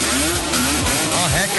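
Bassam's car engine revs and pulls while driving, rising and falling in loud, close sweeps with the pitch climbing and dropping through the run.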